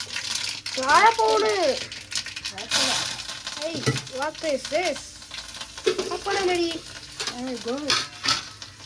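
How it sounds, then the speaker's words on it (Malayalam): Food is stirred and fried in a pan, a steady sizzle with occasional scraping running beneath near, continuous talk between people. "നല്ല ബുൾബുൾ വറുത്തിടാൻ പോവുകയാണ്."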